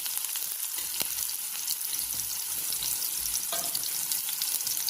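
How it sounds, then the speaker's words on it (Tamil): Onions sauté in hot oil for a crab curry with a constant close sizzle and crackle. A few scraping stirs and light knocks of the spoon against the pan come through, and no one talks. "போட்டு வதக்கணும்"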